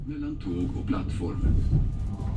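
A passenger train runs over the main line to Stockholm and past carriage sidings on its approach to Gothenburg Central Station, giving a steady low rumble with rolling clatter from inside the carriage, mixed with faint voice-like tones.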